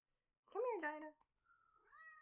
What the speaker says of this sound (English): I think my cat's joined us.